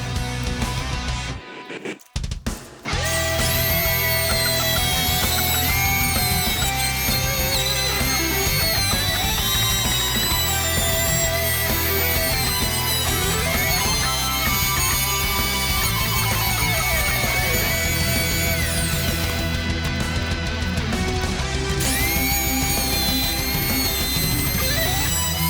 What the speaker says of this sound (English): I'm using my top bearing router bit, 3/4 inch I believe, and you'll see I'll go around this thing